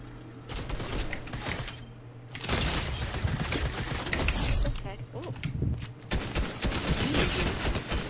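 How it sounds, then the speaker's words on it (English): Dense rapid gunfire in the video game Fortnite, bursts of shots clattering on and off throughout at high level, with a brief lull partway. "They're open, shooting at me."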